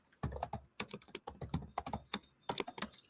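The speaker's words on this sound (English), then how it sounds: "Let me just type this" Quick, uneven bursts of keystrokes clatter on a computer keyboard, close and fairly quiet, with brief pauses between runs of typing.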